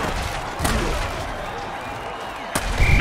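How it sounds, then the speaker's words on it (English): An explosion in an American football video game gives two sharp, booming blasts about two seconds apart, set over a steady wash of crowd and game noise, with a faint rumble lingering near the end. "Explosion, but everyone's walking away from it."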